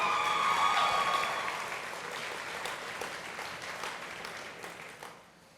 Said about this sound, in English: Stand up real quick so we can all give you a nice warm round of applause